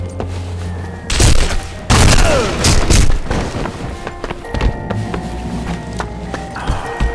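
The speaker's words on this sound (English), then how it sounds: "Grenade out" A grenade goes off in the shooter game Sniper Elite V2 with a loud, close boom followed by a second heavy burst and scattered thuds and debris clatter, then quieter rattling.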